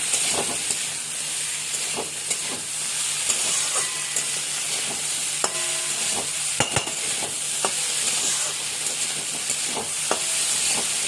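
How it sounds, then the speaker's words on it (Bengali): Spices and ground cumin frying in a pan for dal, stirred with a spoon: an even, continuous sizzle and hiss with occasional clinks and scrapes from the utensil. "সুন্দর করে এটা নেড়ে চেড়ে এটাকে একটু দেবো জিরে গুঁড়ো।"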